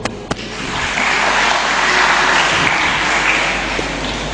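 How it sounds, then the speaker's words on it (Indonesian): An audience at an Islamic religious study gathering breaks into steady applause after a couple of sharp opening knocks, a dense, even wash of clapping that holds at a constant level throughout. "Kita beri tepuk tangan yang meriah untuk beliau"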